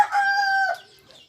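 A rooster crows once, loud and close, a single drawn-out call that fades into quiet, with chickens kept nearby.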